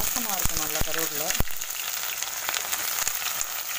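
Curry leaves fry in hot oil in a pan, giving a close, steady crackling sizzle, and a voice is briefly heard at the start.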